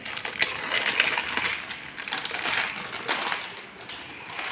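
Biscuits are packed away by hand, producing close, irregular crinkling, rattling and clattering bursts of packaging and biscuits being handled, with no speech.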